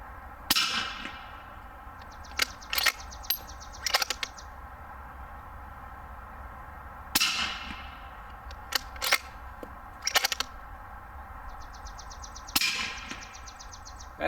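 Suppressed rifle shots firing cast bullets through SilencerCo Hybrid and Rebel silencers crack sharply about four times at spaced intervals, each followed by a short tail and metallic clinks of brass or action cycling, with no talking.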